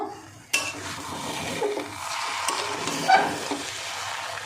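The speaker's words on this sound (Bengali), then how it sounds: "ডিম দিয়ে একটু মিশিয়ে দেব" Egg being stirred into Gobindobhog rice in a pan, with a utensil scraping and clinking against the metal over a light sizzle, starting with a sharp knock and continuing in uneven strokes.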